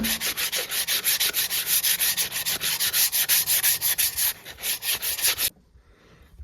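A wooden hatchet handle hand-sanded with 200 grit sandpaper: quick rhythmic rasping strokes, close and loud, in a steady back-and-forth pattern, stopping abruptly near the end into near silence.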